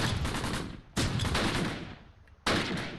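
Gunfire in a World War II firefight from the strategy game Close Combat, with three loud, close bursts of rattling, machine-gun-like fire, each cutting in abruptly and fading away with a short echoing tail.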